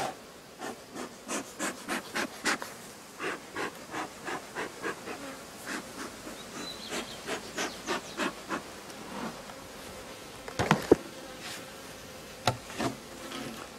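Honey bees at a thinly populated backyard hive buzz in a steady rhythm of short close passes, each drone swelling and fading as single bees fly near, with a brief louder flurry late on.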